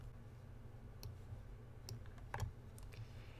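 Faint, scattered computer mouse clicks, a handful of soft ticks spaced unevenly over a quiet room hum, with no talking.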